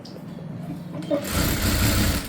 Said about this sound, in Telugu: ఈ విధంగా పైన లేకుండా ఉండటం కోసం పైన ఒక స్టిచ్ వేసుకోవాలి